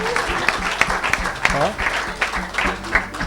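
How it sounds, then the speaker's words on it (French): A church congregation claps hands in worship, a dense, lively patter of many hands mixed with voices and shouts, uneven accents popping through the crowd noise. "Somebody put your hand together as a clap offering unto the Lord."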